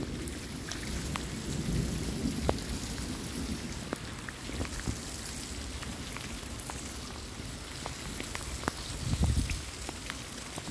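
A thunderstorm sits directly overhead a house, with steady rain pattering down and deep thunder rumbling in two heavier swells, one early and one near the end.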